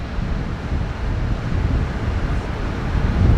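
Wind blowing steadily near a swaying wooden footbridge held up by iron rods, a continuous broadband rush with heavy low rumble and microphone buffeting that swells slightly toward the end, with no voices.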